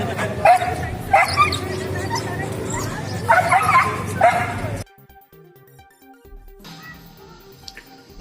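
Stray dogs in the Civil Lines area of Srinagar being caught by a municipal squad: several close barks and yips over a busy background with talk, then a quieter stretch of thin whimpering.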